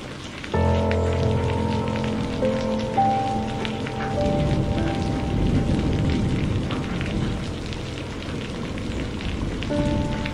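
Monsoon rain falls in the Darjeeling hills, a dense, steady hiss of drops on surfaces that carries on throughout, with a faint tonal hum fading out early on.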